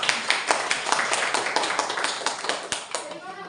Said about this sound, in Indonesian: Tepuk tangan untuk Mbak Yolanda.